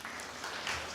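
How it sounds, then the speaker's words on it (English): Audience applause at a community meeting held at a church, a steady dense wash of clapping filling the whole moment at moderate distance, with no speech over it. "Please give them a round of applause."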